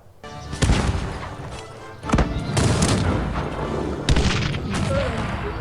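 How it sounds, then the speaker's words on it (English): Artillery booms in the strategy video game Cossacks: three heavy, close blasts at even intervals, each followed by a rumbling decay, with no voice over them. "There it is, the artillery."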